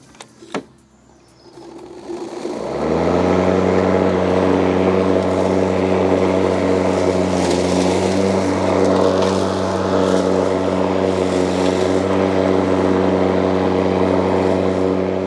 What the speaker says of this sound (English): we're going to see how well this motor and this blade cuts through this much longer grass